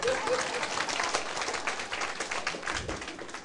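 Applause from a lecture-hall audience at a political seminar, a steady patter of many hands clapping for a few seconds with faint crowd murmur.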